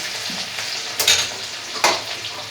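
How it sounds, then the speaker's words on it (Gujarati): Cumin seeds, chillies and asafoetida sizzle in hot oil for a potato and drumstick-leaf curry, a steady close crackle with two sharper bursts of spitting partway through. "તો એમાં આપણે નાખશું પહેલાં જીરું અને મરચાં"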